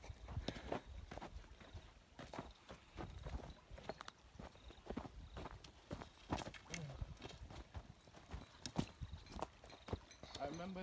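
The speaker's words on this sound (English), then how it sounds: "I see the goats are crossing." Goats crossing a river, their hooves clattering in irregular, uneven steps close by, mixed with splashing and under people talking.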